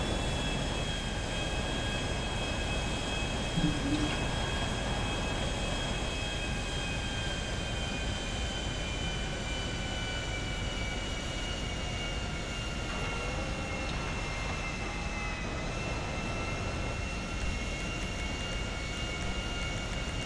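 An airplane drones steadily overhead in GTA Online, a continuous engine whine and broad roar that holds for about twenty seconds at moderate volume with no voices.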